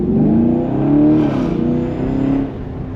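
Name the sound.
Camaro LT1 engine accelerating on test drive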